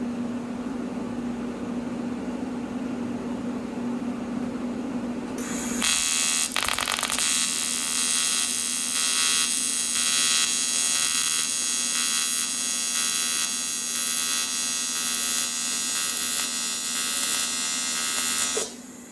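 A Pro TIG welder lays a bead on aluminum, a loud steady buzzing arc with a fine crackle starting abruptly after a low hum and running continuously for over ten seconds before cutting off.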